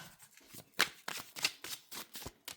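Tarot cards riffle and slap together in quick, close bursts, a soft papery shuffle repeated several times.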